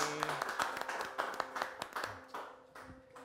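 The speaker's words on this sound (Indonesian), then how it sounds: "tepuk tangan dong semuanya yang ada di sini" Scattered hand clapping from a small group, fairly quiet and spread through the moment, with a faint steady tone underneath.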